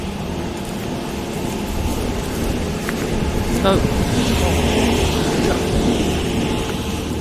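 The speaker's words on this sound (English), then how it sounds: "very noisy traffic" Noisy road traffic on a busy road forms a constant, loud rumble that swells slightly partway through, with a voice speaking briefly.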